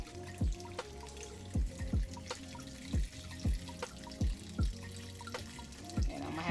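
Water runs from a tap into a pot, producing a regular series of gurgling, bloop-like splashes about every half second over a steady running hiss.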